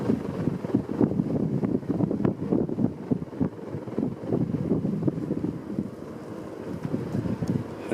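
A Homestead Universal ceiling fan from around 1989 runs steadily, giving a continuous close, breathy rush of moving air with a low, even hum and no pauses.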